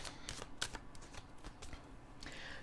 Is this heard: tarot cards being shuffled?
yes